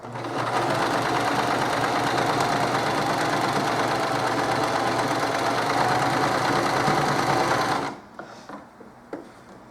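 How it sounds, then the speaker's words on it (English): A sewing machine runs a straight stitch on a fabric tote bag in one steady, loud, close whirring run of about eight seconds, then stops, leaving faint handling noises. "Start sewing. Straight stitch, nothing else."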